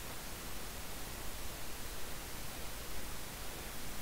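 A huge bomb detonates in Garry's Mod with the Stargate addon, heard from far away as a sustained, uniform roar of broadband rumble and hiss, flat and steady for several seconds without any talking.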